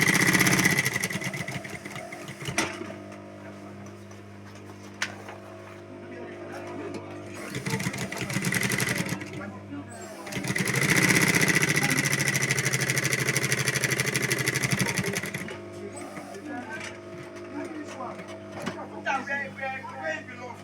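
A sewing machine stitches a zipper tote bag in two long steady runs of whirring mechanical hum, close and fairly loud. Pauses fall between and around the runs, with a person talking during them.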